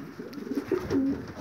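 Pigeons coo softly at a pigeon loft, a few low, throaty calls close by against a faint background hum.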